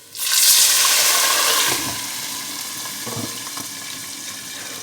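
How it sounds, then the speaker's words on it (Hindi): Water gushes loudly into a pot of browned onions for gobi pulao, a bright splashing pour for under two seconds that then settles into a softer simmering hiss. "प्याज ब्राउन हो गए, पानी शामिल करेंगे।"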